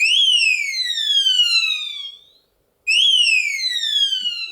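An RF transmitter tilt sensor alarm on a prototype circuit board sounds loud, repeated descending electronic whistle sweeps, breaking off into a brief silence before starting again.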